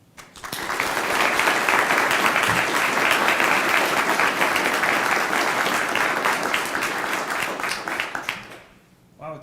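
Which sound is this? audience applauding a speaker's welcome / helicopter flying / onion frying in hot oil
audience applauding a speaker's welcome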